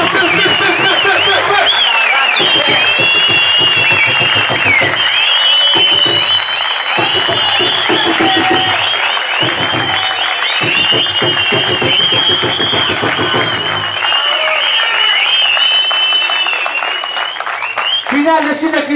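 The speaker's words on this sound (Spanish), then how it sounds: "¡Aplausos, Nacho Río Quilombo!" At a freestyle rap battle tournament final, an audience applauds and cheers loudly and continuously, with voices shouting over the crowd noise.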